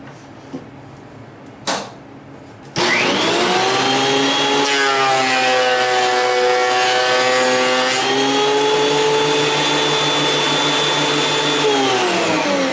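A Shapeoko 3 CNC router cuts an oak pallet board about 3/4 to 7/8 inch thick: after a couple of quiet clicks, a loud sustained high-pitched whine with a shifting rasping cutting tone kicks in and holds steady.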